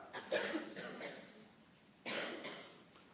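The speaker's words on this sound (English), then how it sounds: "I can't hear because they are coughing." People cough in a few harsh bursts, one early and a louder one later, in a quiet lecture room with some voices between.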